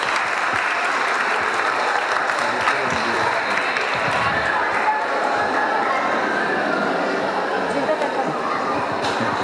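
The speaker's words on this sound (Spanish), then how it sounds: "Muy bien, un aplauso" Steady, loud applause from a crowd, dense clapping that continues throughout with a murmur of voices underneath.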